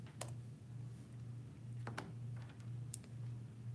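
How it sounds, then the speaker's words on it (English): Quick typing on a computer keyboard, faint scattered key clicks over a low steady hum, with no one speaking. "I'm just typing in something quickly."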